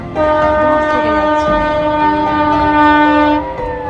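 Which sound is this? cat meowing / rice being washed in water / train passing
train passing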